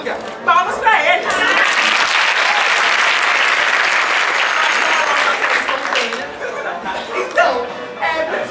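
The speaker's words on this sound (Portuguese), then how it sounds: "Palmas pra eles!" A theatre audience applauds and cheers for the costumed Snow White and Dopey characters, building into a loud, sustained wave of clapping, with voices and laughter mixed in at the start and end.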